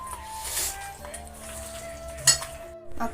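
Chicken being stirred together with masala in a pot, with soft scraping and clinking of a utensil against the metal and a brief sharper clink partway through, steady kitchen noise close by.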